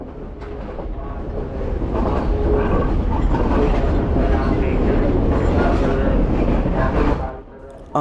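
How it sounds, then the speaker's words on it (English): An old Sri Lankan sleeper train rumbles slowly but loudly, its steady bumpy roar filling the carriage and dropping off abruptly near the end. "even though this one went very slow, it was particularly loud and bumpy"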